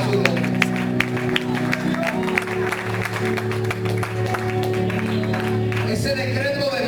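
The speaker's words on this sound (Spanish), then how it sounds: "Dale un aplauso a su nombre." A church congregation claps during a pastor's sermon, a dense ongoing applause with scattered sharp claps, mixed under a steady musical hum and occasional voices.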